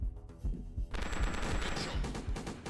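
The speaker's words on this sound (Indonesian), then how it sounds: "Waduh, ledakan di mana-mana, guys" Explosions and gunfire in the game Prohibition 1930 come as rapid, rattling bursts of loud blasts, then merge into a dense, continuous roar of booms.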